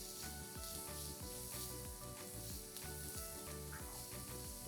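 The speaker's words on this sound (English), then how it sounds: "Next add in 1 finely chopped onion. Also 4 to 5 garlic cloves finely chopped. Saute this for about 2 minutes." Finely chopped onion and garlic sautéing in a pan, a steady close sizzle and crackle running throughout with some soft stirring, no voices.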